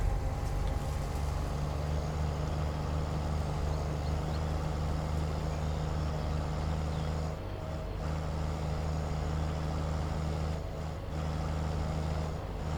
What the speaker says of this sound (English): It sounds like my truck is cutting out.